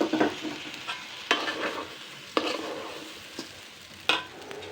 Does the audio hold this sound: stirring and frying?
yes